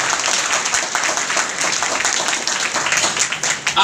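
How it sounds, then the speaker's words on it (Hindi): Audience at a seminar in Bagodar claps loudly and continuously, dense applause filling the room with a brief swell near the end. "एक बार जोरदार तालियां बजा दीजिए"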